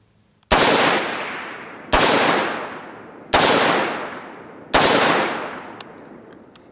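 An AR-15 rifle fires four loud, sharp shots with short echoing tails, spaced about a second and a half apart, during a reliability test.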